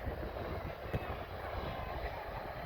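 A jet airliner rumbles at Birmingham airport as it prepares for takeoff, a steady, faint, distant engine drone that holds level without any voices.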